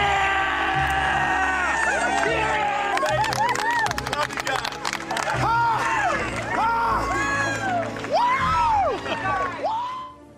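An excited crowd cheers and screams for the winners of The Amazing Race, with loud, rising and falling whoops and shrieks layered over babble and a burst of rapid clapping.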